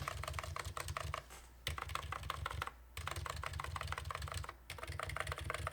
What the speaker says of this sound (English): give it the old typing test